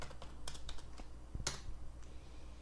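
Fingers typing a value on a computer keyboard and pressing Enter, a quick run of light, close clicks with one sharper keystroke near the middle, heard alone in a quiet room.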